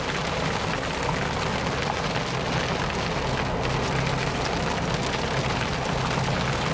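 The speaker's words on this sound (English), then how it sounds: "so summertime. It's raining." Steady summer rain falls on a Florida street with a dense, even hiss that stays constant and close throughout, and no voices are heard.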